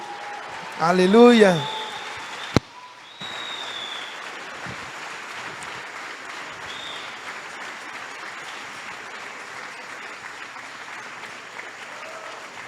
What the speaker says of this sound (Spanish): Denle una ofrenda de palmas al Rey.